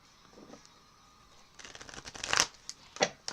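Cards are shuffled close up, a soft riffle building into crisp, rapid flutters and snaps, then a couple of short taps.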